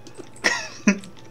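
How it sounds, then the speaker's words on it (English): A few coughs from people in a game session, two sharp loud bursts close to the mic with faint quieter coughing around them. "Let's just make her real by coughing."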